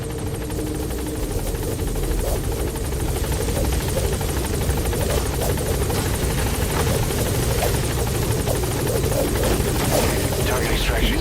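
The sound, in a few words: support helicopter arriving at landing zone in video game Metal Gear Solid V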